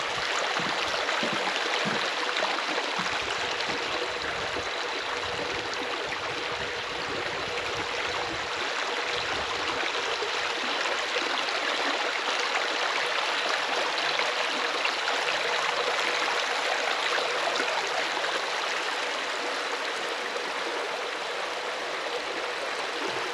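Stream water flows steadily through a state park in Lackawanna, a continuous broad rushing babble that holds at an even level from start to finish with no voices.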